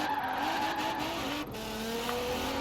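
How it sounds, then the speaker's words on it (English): Stanced rear-wheel-drive Infiniti Q50 in Forza Horizon 4 sliding through a drift, with a sustained tire squeal and skid over a steady engine drone, loud and continuous with no talk. "we're going to be drifting a little bit in here anyways"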